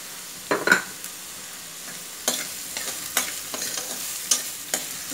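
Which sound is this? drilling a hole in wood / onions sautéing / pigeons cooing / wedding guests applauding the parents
onions sautéing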